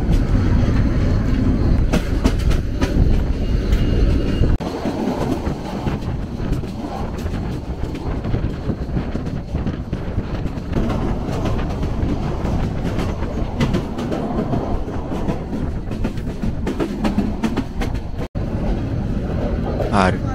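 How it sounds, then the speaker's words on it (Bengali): A train pulling out of Dhaka Airport railway station and running on rails, a steady close rumble with faint clickety-clack and some wind buffeting, continuing for the whole stretch. "আমাদের ট্রেন ছেড়ে দিল ঢাকা বিমানবন্দর রেলওয়ে স্টেশন"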